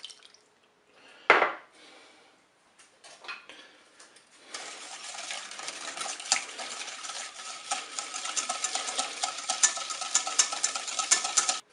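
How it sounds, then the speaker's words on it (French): Butter and sugar beaten together in a bowl, starting with a loud clank and a few scattered knocks, then a continuous fast, gritty whisking that runs close and steady for several seconds without any talking. "je vais commencer par battre le sucre avec le beurre"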